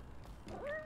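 A cat meows in the video game Little Kitty Big City, a single short rising-then-falling mew heard up close over a faint background, lasting under a second.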